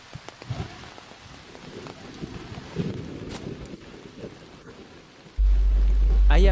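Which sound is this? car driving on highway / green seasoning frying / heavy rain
heavy rain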